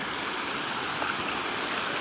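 Water rushes steadily from a small waterfall and stream at Matharikundu near Karuvarakundu, running at low dry-season flow, a continuous close hiss with no other sounds.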